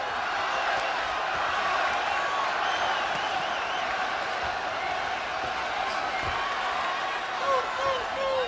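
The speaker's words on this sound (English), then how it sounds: "And the crowd comes alive." Boxing arena crowd at a Julio Cesar Chavez versus Ivan Robinson bout, a dense roar of cheering and voices that holds steady throughout, with a commentator speaking over it.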